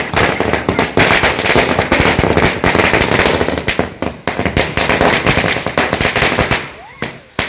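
Firecrackers bursting in dense, rapid crackling volleys at a welcome celebration for parents, loud and continuous with a few short gaps, with voices faintly mixed in.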